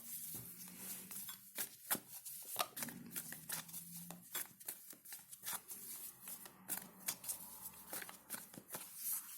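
Tarot cards are shuffled and handled up close, a series of crisp flicks, snaps and soft riffles in irregular bursts, with a low hum beneath.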